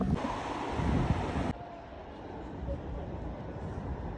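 A water fountain in Paris's 13th district sends up a steady wash of splashing water with wind noise, loud at first and then dropping to a softer, continuous hiss partway through.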